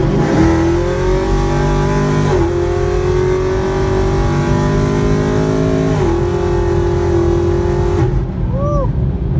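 A car with a freshly returned TCM launches on a 60 mph pull, its engine roaring loud and close as it climbs through revs, two brief dips for gear shifts, then fading off at the end.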